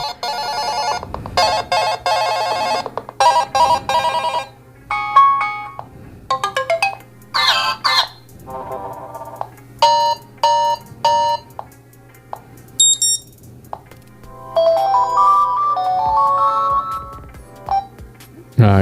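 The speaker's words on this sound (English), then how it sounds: "Let's test out the ringtones just to hear how it sounds." A run of different UMIDIGI A15 smartphone ringtones, short melodic chimes and beeping jingles playing one after another with brief pauses between them.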